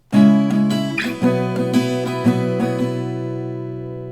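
Acoustic guitar strummed in a steady, moderately quick rhythm, chords ringing out clearly with no voices, then left to sustain and fade.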